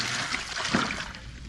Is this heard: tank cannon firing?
no